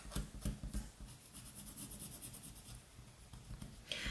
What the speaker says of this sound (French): Voilà, on frotte.